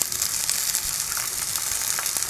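Green beans (lubia) fry in hot oil in a home kitchen, a close, steady crackling sizzle with small pops and faint stirring, continuous and fairly loud with no one speaking.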